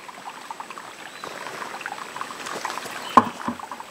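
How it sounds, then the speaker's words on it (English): Water scooped from a 5-gallon bucket and poured into a tank while mixing food plot starter outdoors: faint, continuous sloshing and trickling, with one sharper splash near the end. "So we're going to dip some water, put it in my tank."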